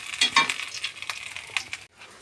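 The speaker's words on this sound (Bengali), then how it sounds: "মাছগুলো ভাজতে দিয়ে দিলাম" Fish frying in a pan, a close sizzle with scattered clinks and stirring scrapes that stops abruptly near the end.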